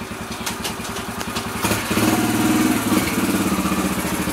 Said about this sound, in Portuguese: E agora meu pai vai mostrar o controle da embreagem.